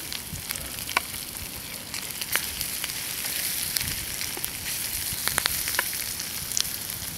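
Goosegrass, nettles, dandelions, pine needles and chorizo frying in a pan, giving a steady close sizzle with scattered sharp crackles and pops throughout, no talking.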